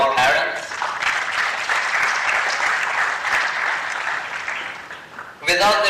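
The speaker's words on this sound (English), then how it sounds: "Can we have a big round of applause for our parents?" A graduation ceremony audience gives the graduates' parents a big round of applause, a dense, steady clapping that holds loud for several seconds before voices and cheers rise briefly near the end.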